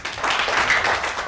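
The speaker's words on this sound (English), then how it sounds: "Give him a clap." A primary-school class claps for a boy named writer of the week, a short burst of dense, even clapping lasting just over a second, fairly close and without talk.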